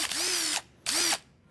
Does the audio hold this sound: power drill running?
yes